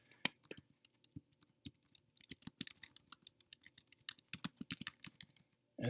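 Someone types on a computer keyboard in quick, irregular bursts of close, crisp key clicks separated by short pauses, in an otherwise quiet room.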